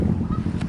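Birds at a bird park honk in short nasal calls close by, layered over a low background rumble, with no talking.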